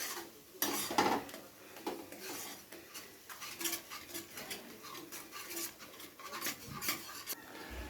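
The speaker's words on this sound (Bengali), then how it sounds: "সামান্য একটু জল দিয়ে মশলাটাকে খুব ভালো করে কষিয়ে নিতে হবে" Spice paste stirred and sautéed in a pan with a splash of water, soft irregular spatula scrapes and light clinks against the metal, fairly quiet and without voices.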